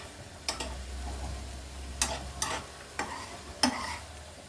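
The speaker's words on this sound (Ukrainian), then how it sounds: "Зараз все підсмажиться, добавлю кабачок сковорідку" Sharp stirring clatters over a low, steady sizzle of vegetables, including zucchini, frying in a pan, with a few scattered scrapes and no talk.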